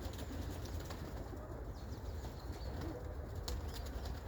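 Budapest pigeons kept shut in a loft coo softly and faintly amid a steady noisy background, with brief wing flutters.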